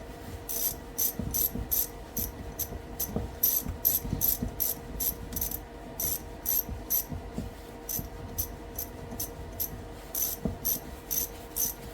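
Ratchet tightening a bolt during a Kawasaki KX125 two-stroke top end rebuild makes rapid bursts of close, crisp clicking in repeated strokes with short pauses between, with no voices.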